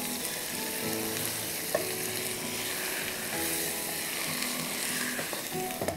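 Garlic potatoes sauté in a hot pan with a steady, dense sizzle and frying crackle, broken by occasional stirring scrapes; no voices are heard.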